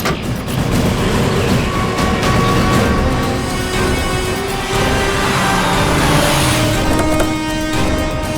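A car rolls off the road and reverses over rough ground, its engine droning loud and steady throughout with rumble and mechanical rattles, no talk.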